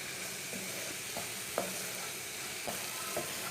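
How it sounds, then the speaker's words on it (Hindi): Okra (bhindi) frying steadily in a pan with a cream-based masala while a spoon stirs it, a continuous sizzle broken by a few scraping clinks of the spoon against the pan. "ऐसे इसे चम्मच चलाते हुए 2-3 मिनट के लिए भून लेंगे।"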